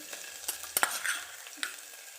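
Chopped onion hitting hot oil with ginger-garlic paste, cumin and asafoetida in a pan for a green pigeon pea curry, giving a soft sizzle with a few stirring scrapes and clinks, close and moderately quiet.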